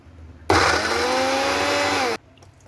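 A blender grinding boneless chicken with carrots and spinach, one loud close whirring burst of about two seconds that starts and stops abruptly, its pitch shifting slightly as the mix breaks down.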